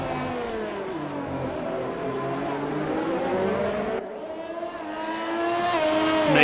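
Race car engine in a sim racing game at the Singapore street circuit on hard tires, revving high with pitch sweeping up and down through gear changes, a sharp drop midway, then climbing again under acceleration.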